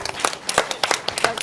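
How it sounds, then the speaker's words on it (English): A brief burst of scattered hand clapping from a seated conference audience at a public sector productivity event, irregular and fairly close, with no talking over it. "I'd appreciate a round of applause for all of them as well."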